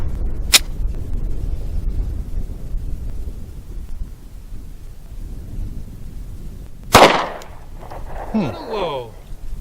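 Pistol shots ring out at an outdoor shooting range, one sharp crack early and another louder one later, with wind buffeting the microphone and quiet voices between shots.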